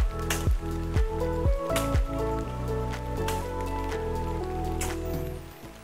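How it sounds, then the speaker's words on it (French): Rain falls steadily in the jungle, a close, continuous patter and drip on surfaces that lasts throughout with no voices. "mais vous entendrez la pluie."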